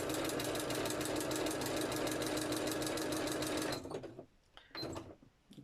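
A sewing machine stitches a very narrow zigzag while a bird wall hanging is worked, running steadily and loudly in a fast, even chatter before stopping abruptly, followed by a few faint handling clicks.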